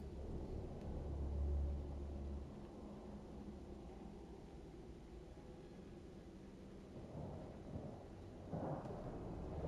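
Thunderstorm in the Mass Effect: Andromeda video game: a steady, muffled roar of wind and rain with deep rumbling thunder, heaviest early on, and faint swells later, at low volume throughout.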